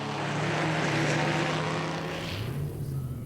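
Onboard engine of the vintage Stutz number 49 racing at Le Mans Classic 2004 on the Hunaudières straight: a loud, close, steady droning roar whose pitch dips and shifts near the end.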